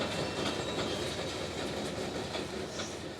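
Freight train M452 backs a cut of rock cars into a yard lead in Florida, a loud, steady rumble with rhythmic wheel clatter and faint metallic squeal, close by and continuous.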